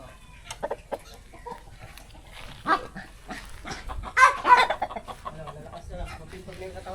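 Chicks chirp in short, high peeps scattered through a farmyard scene, mostly faint with a slightly clearer cluster partway through, mixed with other animal noises and a nearby voice.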